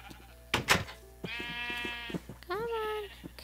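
Sheep bleat twice in the video game Minecraft, each a clear wavering cry lasting about a second, with a short burst of other sound at the start and soft thumps between the calls.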